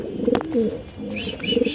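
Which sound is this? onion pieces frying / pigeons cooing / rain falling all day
pigeons cooing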